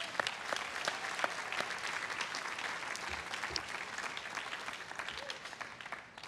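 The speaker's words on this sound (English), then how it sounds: "One more round of applause for Mr." An audience at Harvard Class Day applauds, a dense steady wash of clapping from a large crowd that carries on for several seconds before tapering slightly.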